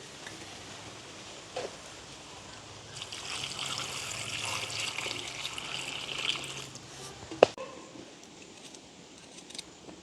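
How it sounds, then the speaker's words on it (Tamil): Cut pieces of bitter gourd being rinsed in water, giving a soft, close trickle and swish that swells in the middle and fades again, with a sharp clack from a utensil partway through. "இப்போ கழுவி எடுப்போம்"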